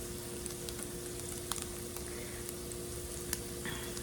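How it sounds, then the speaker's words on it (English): Ground meat and egg sizzle steadily in a hot pan while being stirred for an egg bake, a low constant frying hiss with a few faint clicks of the utensil. "I'm gonna stir up the meat that I just added with the egg."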